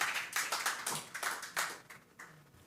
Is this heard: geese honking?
no